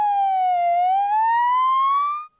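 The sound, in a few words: boy imitating an ambulance siren with his voice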